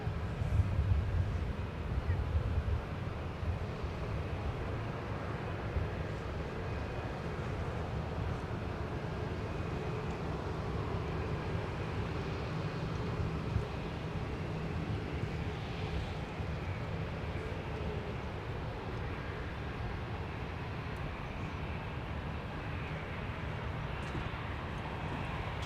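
An Icelandair airliner arriving from Reykjavik at Minneapolis airport rumbles with a faint, distant, steady roar under wind noise.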